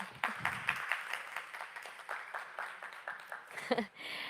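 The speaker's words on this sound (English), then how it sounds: "Please give her a round of applause" Scattered applause from an audience at an investment panel event greeting a moderator, fairly faint and distant, with a voice briefly heard near the end.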